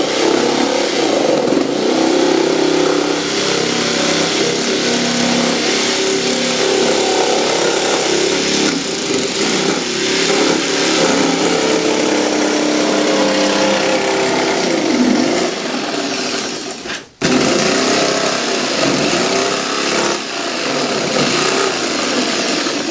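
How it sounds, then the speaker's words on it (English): A jigsaw with a fairly wide blade cuts out a wooden model, making a loud, continuous buzzing whine that barely pauses as it turns along the cut line. "then I make the turn on the jigsaw."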